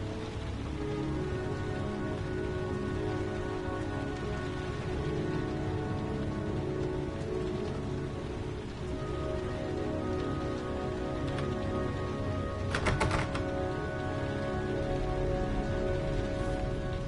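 Steady rain pours in the video game Heavy Rain, a dense continuous hiss that runs alone for the whole stretch, with a brief brighter burst near the end.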